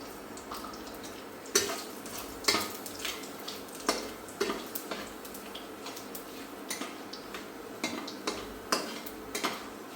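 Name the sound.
frying cumin, chili, bay leaf, cinnamon while stirring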